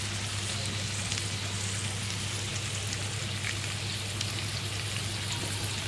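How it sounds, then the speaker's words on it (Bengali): Potatoes fry in hot oil with salt and turmeric, giving a steady, dense sizzling hiss that continues evenly at close range without pause. "একটু নুন হলুদ দিয়ে ভেজে নেব আলুগুলোকে"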